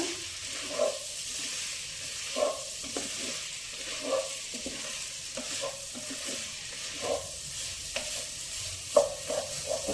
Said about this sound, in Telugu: ఇది కొంచెం వేగాక